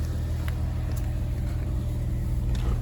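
A Porsche 986 Boxster engine idles steadily, droning continuously with a low, even hum and faint fan whir, close by and unchanging throughout.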